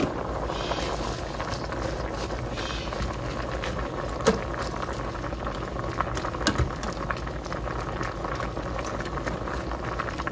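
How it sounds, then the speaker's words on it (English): Kale simmering in a pot, with a steady bubbling, boiling patter throughout and a few faint clinks of stirring; no talking. "we're gonna give that a stir and see how that looks."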